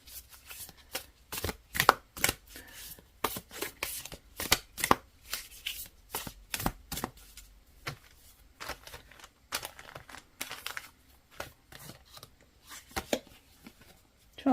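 A deck of shaman-themed oracle cards is shuffled close up, giving a steady run of crisp riffling and flicking bursts in an uneven rhythm, with no talking.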